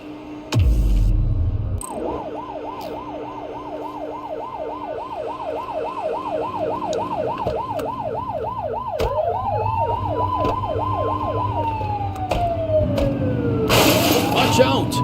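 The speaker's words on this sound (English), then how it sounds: "Turn that siren off." A police car siren in The Precinct video game wails in a fast repeating yelp, then shifts to a slower rising-and-falling tone and winds down, heard over engine noise with voices talking.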